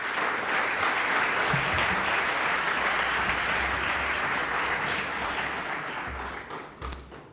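Sustained audience applause at an oil and gas conference welcoming the moderator on stage, a dense, even wash of many hands that holds steady and then tapers off with a few scattered last claps.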